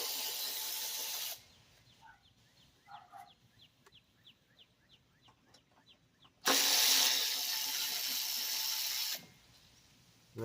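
Ratchet wrench loosening 10 mm bolts on a Craftsman Professional self-propelled lawn mower, a short run of quick clicks between bursts of loud broadband noise, close by and with no talk.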